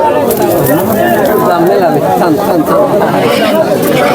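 Pigeons coo in soft, warbling calls at a village market, under a loud, steady chatter of many voices talking nearby.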